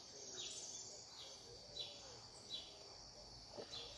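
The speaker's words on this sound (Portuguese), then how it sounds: "Só com os passarinhos e os cachorros." Birds chirp outdoors in the quiet morning, faint scattered high tweets and short calls repeating every second or so over soft background hiss, with no talk.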